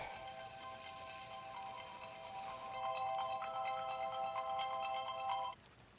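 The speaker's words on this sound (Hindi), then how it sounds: "आपका फोन बज रहा है" A phone ringtone plays a repeating electronic melody, shifting to a brighter tone partway through, then cutting off abruptly near the end.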